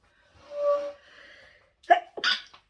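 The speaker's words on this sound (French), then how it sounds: "Je vais éternuer, je crois." A single quiet sneeze in a near-silent room, preceded by a soft drawn-in breath and ending in a sharp burst.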